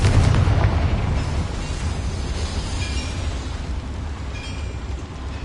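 A Confringo fire-spell blast in a wizarding video game, one loud booming explosion that opens the clip and trails into a long rumbling roar with no talk.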